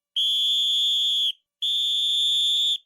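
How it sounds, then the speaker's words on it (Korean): Two long, piercing whistle blasts in a radio drama, each shrill and steady for over a second, separated by a short gap. "이때 다시 호루라기 소리가 들린다."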